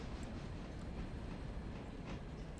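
Steam locomotive backing slowly into a siding in the video game Railroader, a faint steady rolling rumble with soft clattering from the wheels.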